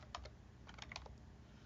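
Computer keyboard typing, a few quick clusters of key presses close by over a low steady background hum, no voices.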